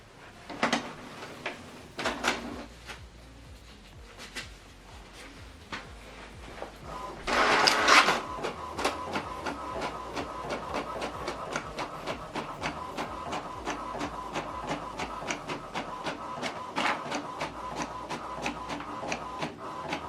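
An HP DeskJet 3700-series inkjet printer prints a page in black and white, running continuously with rapid rhythmic mechanical clicks and a whirring carriage, a louder burst partway through, then steady printing.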